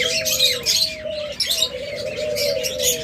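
Pheasants call from a cage, a chorus of clear chirps and tonal whistled notes repeating in quick, overlapping bursts, close and fairly loud with no talking.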